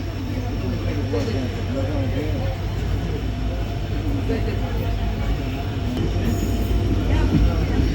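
A passenger train pulls out of Paramakudi station, heard from on board as a loud, steady rumble of wheels on rails with rhythmic clatter and occasional squeal, under faint talk.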